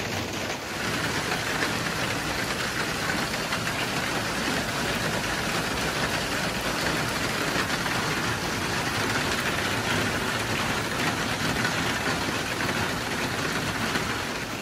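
Steady rain falling on a hiking trail in Maine, a dense, even hiss that stays constant throughout, close and moderately loud with no voices.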